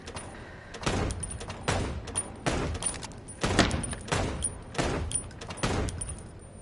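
Gunshots at a shooting range in the Chicken Police video game, six or seven sharp, evenly spaced shots ringing out one after another, fairly loud and alone.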